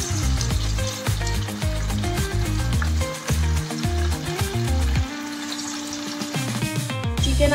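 Marinated chicken pieces for chicken 65 fry in hot oil, giving a steady, loud sizzle that runs through the whole stretch, with a tonal musical layer underneath.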